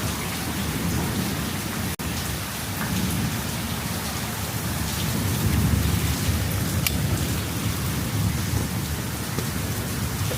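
Heavy rain pours down steadily outdoors in a constant loud hiss, with low rumbles of thunder rolling underneath and a sharp crack near the start.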